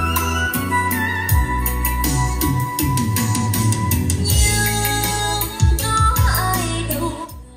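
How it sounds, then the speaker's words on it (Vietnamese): Music plays through a FiiO K7BT DAC amplifier, a full-bodied, continuous mix with deep bass and busy treble, loud and steady throughout with no speech. "Đây là âm thanh của Fio K7BT."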